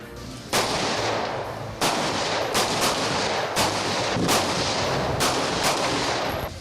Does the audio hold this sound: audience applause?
no